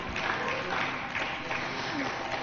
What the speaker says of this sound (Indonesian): Mungkin boleh kita berikan tepuk tangan untuk kita semua pada sore hari ini.